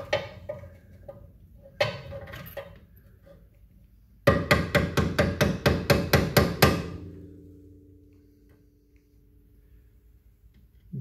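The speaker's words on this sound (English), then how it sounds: "give them a tap, a screwdriver and a hammer action." Metallic hammer taps on a screwdriver against metal brake pad tabs of a 1977 MGB front caliper ring out: a few scattered knocks, then a quick run of about a dozen sharp, evenly spaced strikes, loud and close, followed by fading ring.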